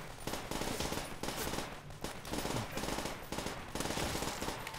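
Rapid automatic gunfire from enemies in a custom Call of Duty zombies map, dense, sustained bursts filling the mix without pause over game sound.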